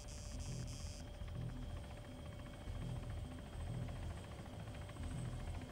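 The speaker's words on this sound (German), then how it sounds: "Der Heli bewegt sich." Helicopter in the video game Arma 3, a low, steady rotor thump with pulsing beats running throughout at moderate distance, droning under a faint electronic tone, with no speech.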